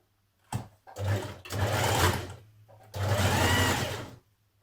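A sewing machine runs in two long bursts with a short pause between, stitching the folded side seam of a sleeve on a woven top; steady, close and loud, with no talking.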